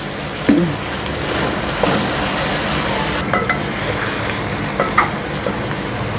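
Steady sizzling of ginger garlic paste frying in hot oil, with a few soft scraping stirs and light clicks of a spoon against the pan.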